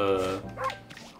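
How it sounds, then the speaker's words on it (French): The wolf Amaterasu barks in the video game Okami, a short harmonic yip followed by a quicker second bark, close and clear with nothing else around it. "Je lui aboie dessus."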